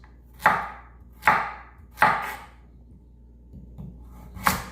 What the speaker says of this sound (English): I use rainbow carrots in this. Now when you cut them up, you want decent thickness of chunks.